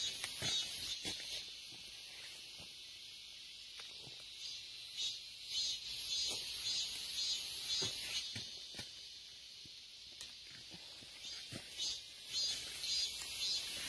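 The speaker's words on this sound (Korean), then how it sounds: "매미 소리 들으시고." Dense insect chorus of cicadas and crickets in the countryside on an autumn dawn, a steady high shrill drone running throughout with a few faint clicks and knocks, no talking.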